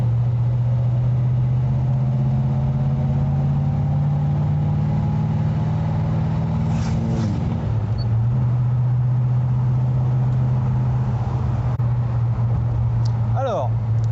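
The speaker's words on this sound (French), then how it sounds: "Ah, on entend bien le bruit du V8." A V8 car engine runs with a loud, deep continuous drone that shifts pitch as if changing gear midway, with a person talking over it.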